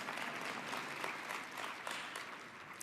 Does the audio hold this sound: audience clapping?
yes